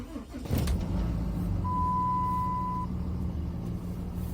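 A truck with a G56 transmission running SAE 50 oil starts with a brief crank and catch, then settles into a low, steady idle with a thin beep tone sounding for a moment.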